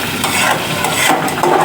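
Ground spice paste being stir-fried for a chicken curry, a loud, dense, continuous sizzle with steady scraping from the stirring, close up and with no voices.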